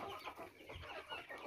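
Soft, faint clucking of farm chickens, a few low murmuring calls amid a rustling, noisy yard background, with no speech.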